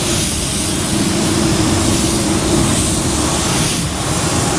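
A 3M spray gun with a 1.3 fine finish tip lays a second coat of paint, giving a steady, loud hiss of air and atomized paint that runs without a break.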